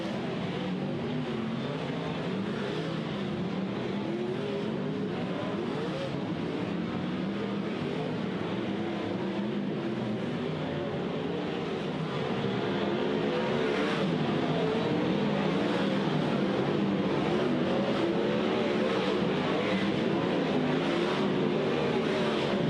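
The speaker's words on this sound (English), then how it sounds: "they are now given the signal to get the cars up to speed and go back to green flag conditions" Dirt race cars on Placerville Speedway's dirt track speeding up to return to green flag conditions, a dense continuous roar of several engines at a distance that swells slightly as they accelerate.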